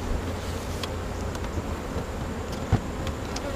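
Honey bees buzz around a hive and its bottom board during a late August inspection, making a steady, continuous drone up close with faint wind and a brief knock partway through, with no talk.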